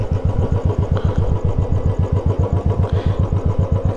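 A motorcycle engine runs steadily on a deserted road, a loud, close, even throbbing pulse that holds without a break, with no voices over it.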